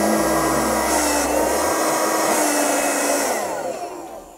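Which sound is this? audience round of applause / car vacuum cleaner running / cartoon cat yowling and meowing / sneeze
car vacuum cleaner running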